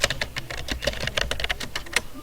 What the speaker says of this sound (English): So now you're ready to start typing your report.